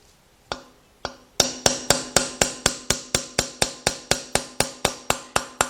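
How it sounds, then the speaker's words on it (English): Light hammer taps on a socket set against a 2006 Kia Sportage 2.7 engine block during an engine rebuild: two isolated strikes, then a steady run of about sixteen evenly spaced, bright metallic taps, close and crisp with no talking. "It's a very light tap. When you hit that block, it becomes a different tone."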